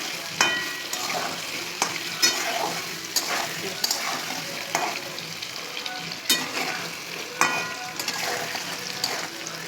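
Potatoes sizzle in a generous amount of hot oil, seasoned with salt and turmeric, with a steady frying hiss broken by regular scrapes and clinks as they are stirred in the pan.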